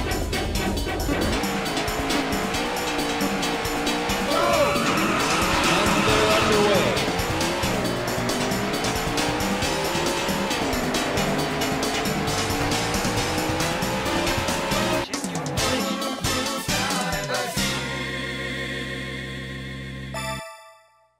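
Race car engines from the arcade racing game Daytona USA roar continuously with rising and falling pitch as gears shift, tires squealing through corners, before the sound cuts abruptly near the end.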